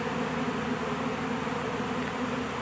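A swarm of honeybees flying around a trap box outdoors, producing a dense, steady, continuous buzz that fills the whole moment, close and loud with no speech.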